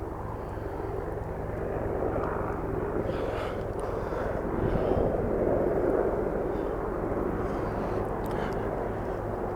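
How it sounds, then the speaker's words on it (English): A helicopter flies low over the trees at night in woodland, a loud, steady, broadband engine and rotor roar that swells slightly as it approaches and holds for several seconds, with a faint voice underneath. "and now there comes a helicopter."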